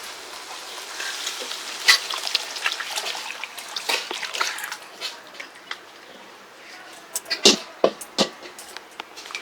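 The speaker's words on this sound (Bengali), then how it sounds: "এখন দিয়ে দিব ছেঁকে রাখা ইলিশের পানি।" Strained water from hilsa fish poured into a pan of fried spices, hissing sizzle with trickling and intermittent sharp crackles over several seconds.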